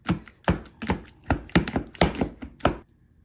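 Apple pies are smushed into small pieces with a jar scraper: repeated soft, squishy thuds in an irregular rhythm, about eight in a row, close by, then the pressing stops.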